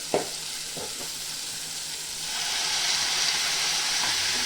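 Ground coriander, cumin powder and garam masala sizzle and fry in a hot pan, a steady hiss with a few soft stirring knocks early on that swells louder after the midpoint.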